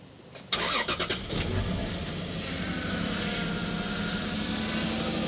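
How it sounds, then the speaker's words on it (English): A 1995 Lexus SC300 engine cranks in several quick starter pulses, then catches and settles into a steady idle, recorded close by with no talk. "Let's start her up, see if it does anything interesting or lets the magic smoke out."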